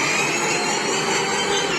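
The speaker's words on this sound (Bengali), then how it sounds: "তো ট্রেনের ইঞ্জিনটা অন করি।" A train engine is switched on in a video game, giving a steady loud mechanical whir and hum that holds constant throughout with no voices.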